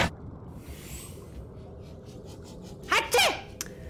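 A single sharp sneeze bursts out near the end, close and clear, after several seconds of faint background hiss with a few soft, scattered ticks; no talking.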